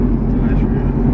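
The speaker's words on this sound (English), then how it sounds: "Going up in the rev range." Stock B20 engine revving up through the rev range, a steady loud drone under voices talking.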